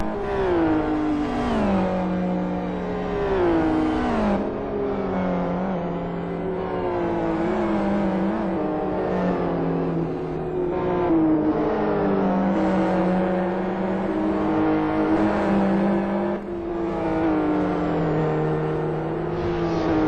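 Several race cars in Gran Turismo engines howling steadily through corners and up a hill, the pitch rising and dropping with each gear change, a continuous layered drone.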